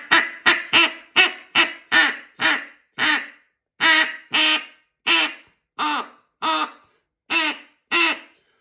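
A kids' duck call blown by hand gives a run of about fifteen loud, nasal quacks, quick at first and then spaced more evenly, heard close and alone.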